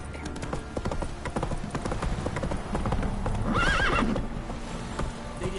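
A horse gallops in The Witcher 3, its hooves beating a rapid continuous clip-clop, with a loud whinny near the middle.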